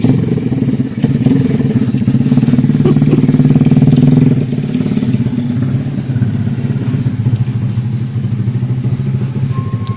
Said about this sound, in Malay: saya dengar dia punya bunyi motor